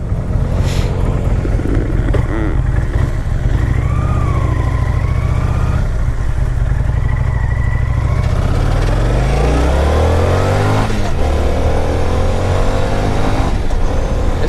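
A 2005 Kawasaki Vulcan 800 motorcycle accelerating, its engine loud and close, rumbling and rising in pitch through the gears as it pulls away.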